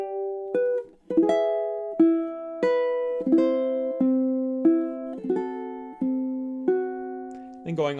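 Ukulele picks measures 9 through 12 of Chopin's Nocturne Op. 9 No. 2, a steady series of plucked single notes and small chords, each ringing and fading before the next, solo and close.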